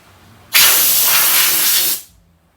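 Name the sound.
air blown onto a Koken ratchet, making it turn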